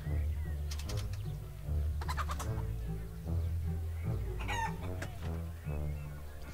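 A cartoonish chicken in the Wallace & Gromit's Grand Adventures video game, at the fair's Are You Smarter Than a Chicken? stall, clucks and squawks in several bursts over a steady looping game soundtrack.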